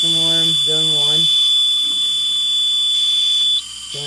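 A fire alarm system sounds its steady high-pitched tone after a suppression agent release, with a repeating horn-like pattern early on, then the continuous tone carries on until it briefly cuts out near the end.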